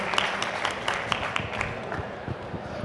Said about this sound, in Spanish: Un aplauso para los dos. Se lo merecen.